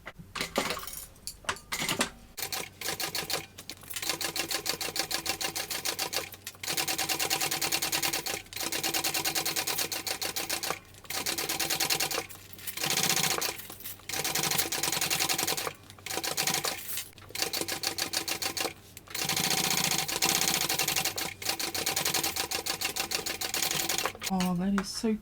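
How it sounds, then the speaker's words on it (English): A sewing machine top stitching around the outside of a baby bucket bag, running in repeated bursts of rapid mechanical chatter broken by brief pauses, close and clear, with a voice talking at times. "We're not doing anything with the top, we're just top stitching the outside."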